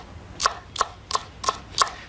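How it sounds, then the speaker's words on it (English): Knife finely chopping spring onion on a board: five crisp, evenly spaced strikes about a third of a second apart, close and clear over quiet background. "some spring onion which I'm finely chopping"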